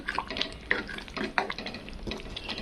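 A ginger gravy for chana dal amti frying in a pan, with soft sizzling and clatter from stirring, plus brief scraping clinks against the metal.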